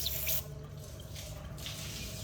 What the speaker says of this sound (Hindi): पानी खोलेगा वहाँ